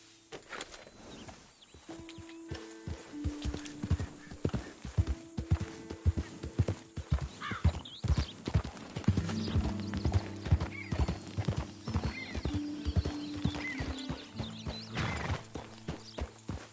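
Horse hooves clip-clop in a steady walking rhythm in Red Dead Redemption 2, with a few neighs and snorts mixed in, close and clear over a quiet game background.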